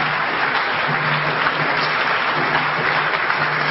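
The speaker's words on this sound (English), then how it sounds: "So give yourself a round of applause." An audience at a lecture applauds, a dense, steady clatter of many hands clapping together at even loudness for the whole stretch.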